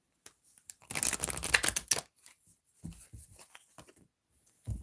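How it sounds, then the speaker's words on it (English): A deck of cards is shuffled by hand in a quiet room: a dense riffling burst lasting about a second, followed by scattered soft taps and slides as the cards are squared. "Let me shuffle."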